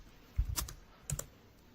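A few quick keystrokes on a computer keyboard while a git commit message is typed, two short clusters of soft clicks, close and quiet.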